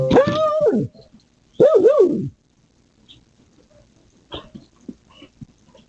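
A dog outside a front door lets out two loud, drawn-out whimpering whines in quick succession, then a few faint scuffs and soft sounds follow in the quiet.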